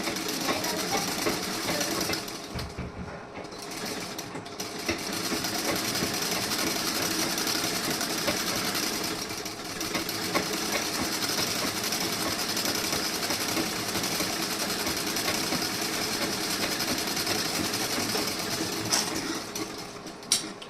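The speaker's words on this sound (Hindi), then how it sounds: "इस तरीके से आपको सिलाई लगा लेनी है" A sewing machine runs steadily for about twenty seconds, stitching a seam on a blouse's sleeve and back panel, with a continuous close mechanical whir and a brief pause near the start.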